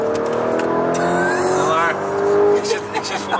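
An SUV drives at highway speed, its engine giving a steady, loud drone that swells as it accelerates, while people inside talk over it.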